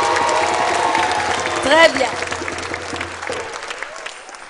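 Audience applause from a live television show crowd, a dense sustained patter at moderate volume, with a host's voice speaking over it briefly and then the clapping thinning out.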